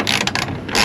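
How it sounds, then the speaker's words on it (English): A ratchet wrench tightens the stock screws of a tail light on a fourth-generation Toyota Tacoma, giving a rapid, close clicking that runs through the short stretch with brief pauses and no talk. "Gonna go ahead and wrench it down again with the stock screws."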